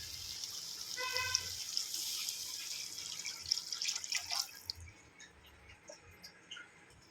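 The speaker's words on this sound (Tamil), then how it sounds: "நான் இந்த செம்பில் ஒரு செம்பு தண்ணி ஆட் பண்ணிக்கிறேன்" Water poured from a small vessel into a cooking pot while making vermicelli biryani, a close splashing, gurgling stream that tapers into scattered drips and soft clinks.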